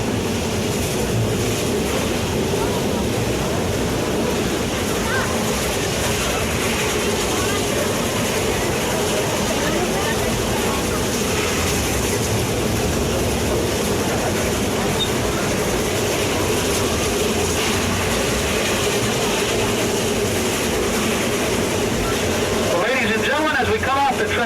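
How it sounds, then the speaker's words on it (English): A narrow gauge train at Roaring Camp & Big Trees rolls over a curved trestle with a continuous rumble and rattle throughout, while a guide talks over it. "We don't recommend anybody leave the train while we're on the trestle."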